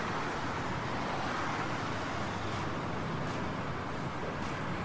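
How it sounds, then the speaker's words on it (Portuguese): Continuous highway traffic in the video game GTA San Andreas, a steady broadband roar of cars passing with a few brief whooshes of vehicles going by. "sons de carros em rodovias"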